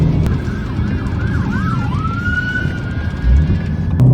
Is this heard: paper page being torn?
no